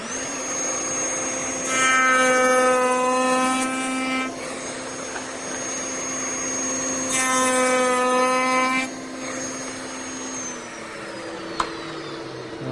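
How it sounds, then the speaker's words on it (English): A cope cutter machining cope cuts into the ends of wooden 1 1/8 inch muntins and mullions for glass panel doors, a steady motor drone with two louder bursts of cutting, each lasting about two seconds. "We're going to cut the cope cuts for all of our muttons and mullions right here."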